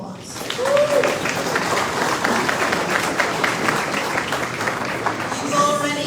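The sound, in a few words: audience applause at US Independence celebration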